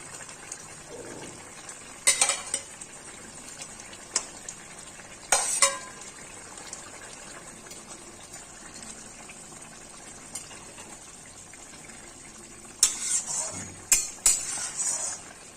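Fried katla fish pieces go into a softly simmering potato and tomato curry, with a low, faint bubbling bed broken by a few brief clattering splashes and stirs.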